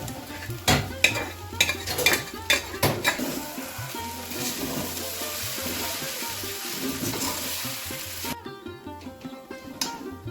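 Maggi noodles stir-fried with egg and onion in a home kitchen pan: a steady sizzle under repeated scraping and clinking of a spatula against the pan, with an abrupt drop to quiet near the end.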